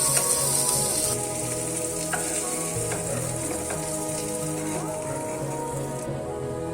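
Cauliflower pieces fry in hot oil with a bright, continuous sizzle up close, louder at first, with faint clinks of stirring and a soft voice in the background.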